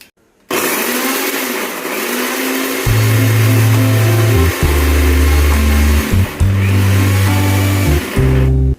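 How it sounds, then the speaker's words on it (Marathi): Mixer grinder blending garlic and green chilli into a paste, a loud close motor whirring in repeated bursts with brief pauses and shifts in pitch as the jar is pulsed. "त्यानंतर आपण लसूण आणि हिरवी मिरची याची पेस्ट करून घेणार आहोत"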